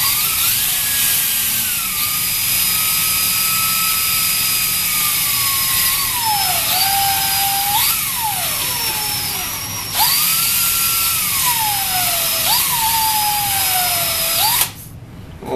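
A power drill polishes a Lee reloading die with a steady high whine up close. Its pitch sags repeatedly as the load comes on and recovers, and the drill cuts off abruptly near the end.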